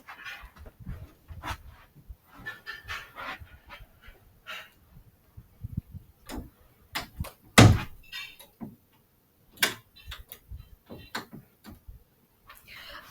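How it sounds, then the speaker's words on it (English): A door to a room is pulled shut with one firm, close thud, set among scattered clicks, knocks and faint household clatter of dishes being moved nearby. "let me close the door to my recording area."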